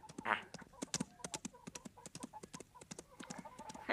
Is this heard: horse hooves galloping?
yes